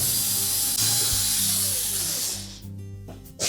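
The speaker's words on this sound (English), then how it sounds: "we're next going to remove these 3 retaining screws for the main top. They're typically 1/4-inch hex head screws." A ratchet or power driver backs out 1/4-inch hex head screws holding the main top of a Whirlpool washer, a loud, close whirring buzz that runs steadily and then winds down and stops near the end.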